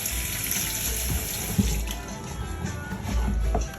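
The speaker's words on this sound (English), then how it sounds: "Clean these out, rinse them." Steady running tap water splashes into a sink, a continuous close rush with occasional louder spatters as vegetables are rinsed beneath it.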